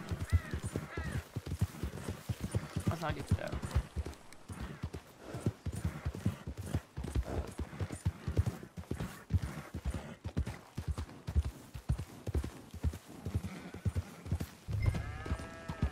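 Horse hooves galloping in rapid, rhythmic clip-clops in the video game Red Dead Redemption 2, steady and close throughout, with occasional snorts and a voice talking briefly over the hoofbeats.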